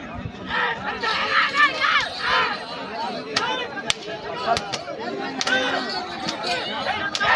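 A crowd at a village contest in Atmakur shouts and yells loudly and continuously, many voices overlapping in dense cheering, with occasional sharp cracks cutting through.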